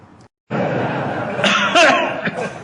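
A man gives a short, throaty demonstration cough and then a few rough, cough-like bursts, close and fairly loud, during a mosque religious lecture.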